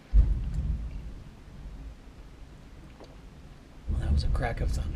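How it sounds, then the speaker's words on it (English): A deep crack of thunder from a storm, a low rumbling burst at the start that fades and then swells again near the end, loud and broad with a steady wash beneath it. "Well, that was a crack of thunder."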